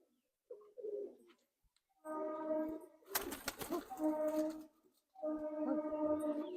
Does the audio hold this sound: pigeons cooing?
yes